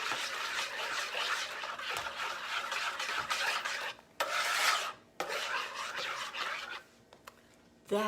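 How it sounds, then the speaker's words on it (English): A spoon slowly stirs corn bread (johnny cake) batter in a bowl, giving a steady soft rasping and scraping that carries on in even strokes with a few short pauses and no voices. "just going to stir that slowly until it's nicely combined"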